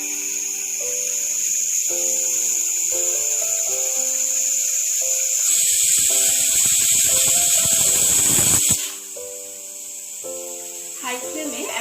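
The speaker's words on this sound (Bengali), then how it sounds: "এবার প্রেসার কুকারের ঢাকনাটা বন্ধ করে দেবো। হাই ফ্লেমে একটা সিটি পড়তে দেবো।" A pressure cooker of Rajasthani panchmel dal on a high gas flame gives a loud steamy hissing whistle that swells for a few seconds, then cuts off, heard over background music.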